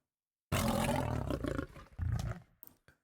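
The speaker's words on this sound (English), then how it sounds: "Then I have your basic lion growl for the attack." A basic lion growl sound effect, used as an attack sound in a T-Rex scream sound design, erupts abruptly as a loud, rough roar, breaks off, then returns with a shorter snarling burst before trailing into a few faint huffs.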